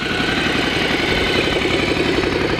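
A 2017 Ducati Scrambler Cafe Racer with a Termignoni exhaust idles close by, giving a loud, steady, throbbing rumble with no talk.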